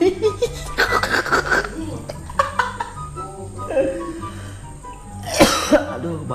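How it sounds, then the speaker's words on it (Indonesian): A man coughs several times during a mukbang of fried tofu, with harsh, close bursts in quick clusters, some breathy laugh-like sounds and a sharp louder burst near the end. "Aduh batuk gue."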